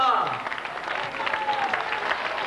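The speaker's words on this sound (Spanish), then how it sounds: "vamos a recibir amb un fort aplaudiment al guanyador de la prova" A crowd at a 1997 footrace in Sueca applauds the race winner. The clapping is steady and dense for the whole stretch, with a voice speaking over it.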